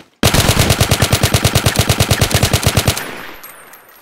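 Rapid automatic gunfire in a Roblox first-person shooter game, about two dozen evenly spaced loud shots in a steady burst lasting nearly three seconds, then a fading echo and silence.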